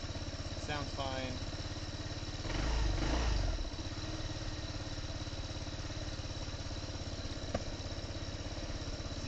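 Small engine idling steadily with its valve covers removed, a busy mechanical clatter and rattle throughout, briefly swelling louder for a moment partway through, close and fairly loud.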